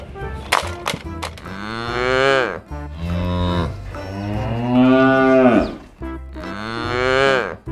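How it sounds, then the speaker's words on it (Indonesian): A cow moos in several long, loud, drawn-out calls with short pauses between them, close to the recording and alone, apparently a sound from a plastic farm animal toy. "sapi"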